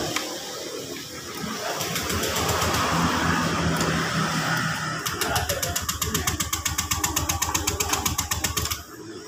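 A stalled fuel-injected Honda Scoopy scooter is cranked repeatedly; the starter whirs, then rapid rhythmic mechanical ticking follows without the engine catching, close and moderately loud.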